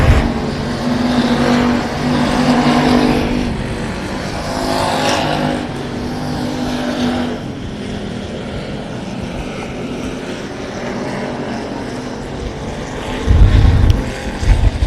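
Factory stock race cars roar around an oval track at a raceway, their engines loud and droning as they sweep past in waves, with a sharp close burst near the end.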